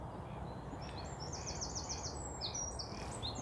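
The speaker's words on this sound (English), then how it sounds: "There's a wren obviously right by me singing for competition here." A wren sings close by in drizzly weather, bright rapid trilled phrases rising above steady rain hiss, with other bird calls scattered through the background.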